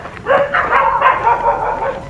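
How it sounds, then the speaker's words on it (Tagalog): Several dogs bark and yip nearby outdoors in a quick, loud flurry of overlapping barks. "Dito na lang kami dadaan sa kabila kasi may mga aso."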